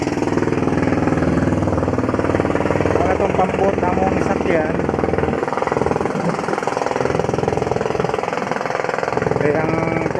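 A pump boat engine runs steadily and loudly near Babak, Samal, with a rough, knocking chug throughout and voices talking over it.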